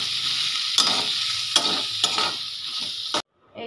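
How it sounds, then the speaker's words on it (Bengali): A fish chop mixture with chopped coriander and green chilli sizzles in a hot pan while a spatula scrapes through it in three or four distinct strokes, then the sound cuts off abruptly. "দিয়ে 1 মিনিট আমি ভালো করে নেড়ে নেব"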